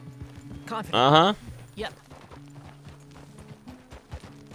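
A horse in Red Dead Redemption 2 gallops with steady, rhythmic hoofbeats throughout, briefly joined by a short neigh early on, while a person says a single word.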